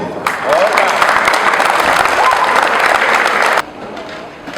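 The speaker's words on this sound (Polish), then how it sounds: "poproszę o brawa dla Waszych trenerów i opiekunów" Players and spectators at a youth floorball tournament in Brwinów give a loud, sustained round of applause for their coaches, clapping dense and even for over three seconds before cutting off abruptly, leaving faint background voices.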